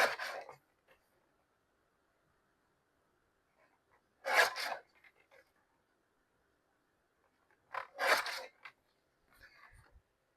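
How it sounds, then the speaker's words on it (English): Scissors cutting the border off a paper postcard for a junk journal, three separate bursts of snipping and rasping spaced a few seconds apart with quiet gaps between, close and fairly soft, no talking. "Cut the border off of it."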